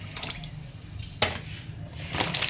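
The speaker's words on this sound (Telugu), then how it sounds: "కొన్ని వాటర్ వేసుకుందాము" Water poured into a pot of rice for tomato bath, a soft splashing trickle with a sudden louder pour midway and more sloshing near the end, close and quiet.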